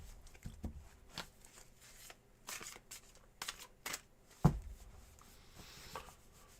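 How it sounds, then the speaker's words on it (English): A deck of tarot cards being shuffled in a quiet room, with soft, faint riffles and taps and one sharper knock partway through. "while I do a cleansing shuffle for you as well"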